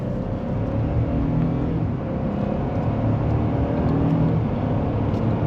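A 2025 Ford F-150 STX pickup with a 2.7L V6 speeds up, heard from inside the cab as a steady, full engine roar and road noise that holds for several seconds, with no talking.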